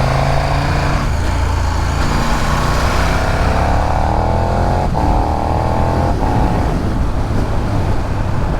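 A 2022 KTM 1290 Super Duke R ridden on a quiet country road, its engine droning loudly and continuously with rising and falling revs through gear changes under strong wind rush.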